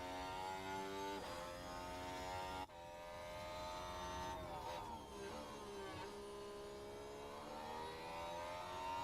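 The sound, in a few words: Formula 1 cars driving on track at Spanish GP practice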